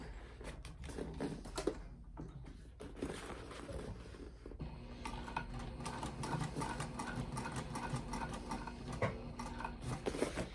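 A sewing machine stitches around the edge of a cork fabric crossbody bag. Its fast mechanical whirring and ticking comes in short bursts at first, then settles into a steady, faint run.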